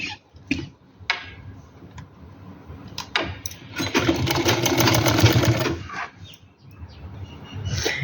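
Electric sewing machine stitching a simple suit, running in a steady rapid burst of about two seconds, preceded and followed by scattered clicks and handling of the fabric.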